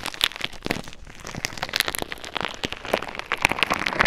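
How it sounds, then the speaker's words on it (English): Slime being squished and played with close to a mini microphone, giving dense wet crackles, pops and sticky clicks in an irregular, continuous stream. "Rating slime ASMR with my mini mic."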